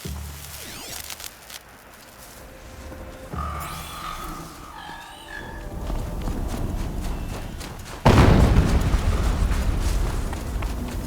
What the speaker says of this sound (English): An explosion.